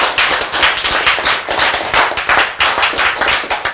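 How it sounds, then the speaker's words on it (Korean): A congregation bursts into loud, close applause, dense rhythmic clapping that stays strong and unbroken throughout. "박수!"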